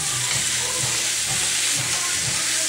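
Hot chicken stir fries in a pan, a loud, steady sizzle and hiss heard close up, with soft rhythmic stirring scrapes pulsing underneath about twice a second.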